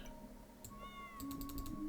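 Cat meow from Backpack Battles, a short, faint cry rising then falling, heard alone over a quiet low hum with light clicks around it.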